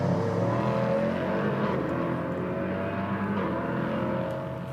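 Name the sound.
prototype race cars racing at Hockenheimring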